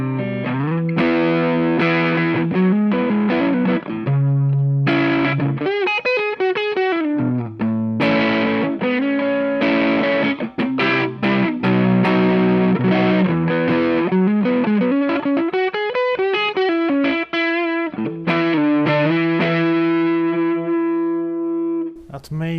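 Electric guitar played through a Suhr Shiba Drive overdrive pedal with its tone control turned to the right, a continuous distorted melodic passage with sustained notes and slides, close and loud with no talking.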